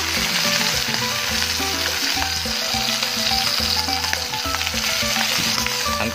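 Beef steak fries in butter in a pan, making a loud, continuous sizzle with crackling that stays even from start to finish, over a low steady rhythmic backing.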